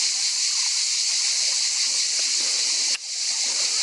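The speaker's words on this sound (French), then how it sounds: "il y a une sorte de rigole en fait avec des petites cascades tout le long" Small cascades trickle along a water channel in a park, a steady bright rush of flowing water close by, continuous throughout with a brief dip near the end.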